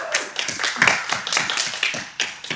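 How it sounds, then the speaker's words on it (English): Applause from a church congregation during a Sunday spiritual service, a dense burst of many hands clapping with uneven rhythm, close and fairly loud, no voices over it. "Let's give Kevin a big round of applause"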